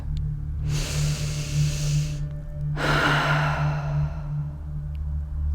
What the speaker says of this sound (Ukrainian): Зробіть глибокий вдих і шумний видих через рот.